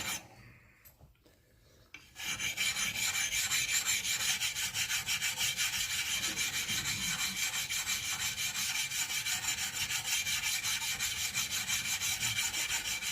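Axe blade being sharpened on an oil stone: a continuous rhythmic rasping scrape, close and steady, beginning after a brief quieter pause.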